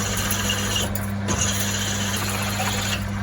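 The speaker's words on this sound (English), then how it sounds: "Not even slowing the drill down" A power drill whines steadily at close range with a constant motor hum, its pitch dipping briefly as it bites through aluminium.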